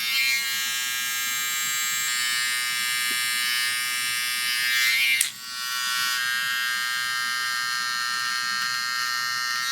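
Electric hair clipper cutting hair during a high taper haircut, a close, steady high-pitched buzz running almost continuously, with a brief sharp click partway through.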